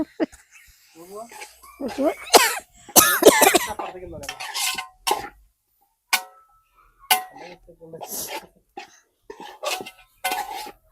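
Several people coughing indoors, with short, sharp, irregular bursts scattered among stretches of talk, some close and loud, others fainter.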